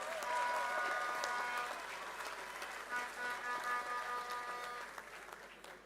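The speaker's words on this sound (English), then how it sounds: "Give Brother Skerrit a round of applause again." Sustained applause from a large audience at the opening ceremony of a Dominica Labour Party delegates conference, a steady dense clatter of clapping throughout with faint tonal music underneath.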